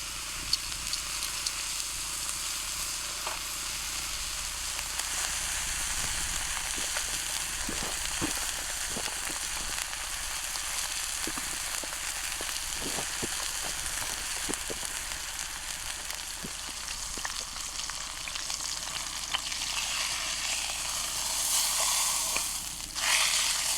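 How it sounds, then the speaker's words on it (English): A steak sears in a pan at a solo forest campsite, giving a steady, even sizzling hiss with scattered small crackles and pops throughout. "we'll see what happens cooking a steak. We'll just start by searing it."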